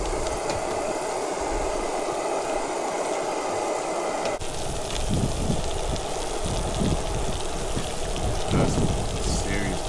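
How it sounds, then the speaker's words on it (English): Strong 20–25 gusts of wind buffet an evening lakeside fishing spot, a continuous broadband roar that swells and surges in bursts after a brief lull, loud and close. "That's serious wind gusts right now."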